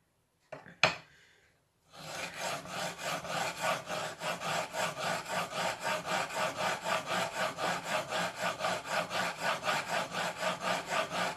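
A blade is rubbed on diamond sharpening stones dampened with glass cleaner, giving a steady, rhythmic rasping stroke that repeats over and over, close and clear. A brief click comes before the strokes start.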